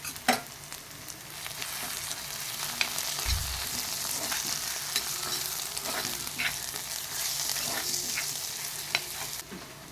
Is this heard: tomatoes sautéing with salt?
yes